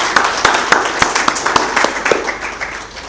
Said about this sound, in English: another round of applause for Priscilla